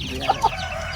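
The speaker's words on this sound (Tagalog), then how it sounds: "marami na po mga manok dito" Native chickens at a poultry farm cluck in a short burst, two sharp close calls standing out over a steady background of farmyard noise.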